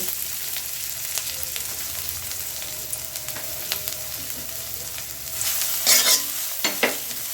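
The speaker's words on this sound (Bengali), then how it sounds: "তেলটা একটু গরম হয়ে আসলে তখন আমি পেঁয়াজ কুচিগুলো দিয়ে দিব।" Chopped onions fry in hot mustard oil, steady close sizzling with frequent spatula stirring and scraping against the pan, growing louder near the end; no one speaks.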